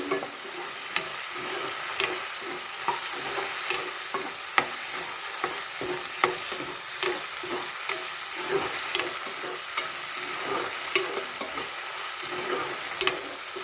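Spices fry and sizzle in a pan of oil for milk chicken, a steady crackle broken by regular scraping stirs, close and alone without talk.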